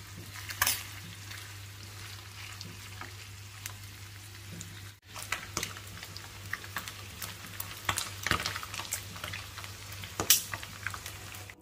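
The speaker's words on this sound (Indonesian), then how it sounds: "Kemudian kita goreng tapi tidak usah terlalu matang." Chicken liver pieces fry lightly in hot oil for sambal goreng, giving a steady soft sizzle with scattered pops and crackles, close and fairly quiet, with no talking.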